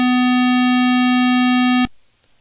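A synthesized square wave holds one steady, buzzy, reed-like note at full level, then cuts off abruptly, leaving near silence.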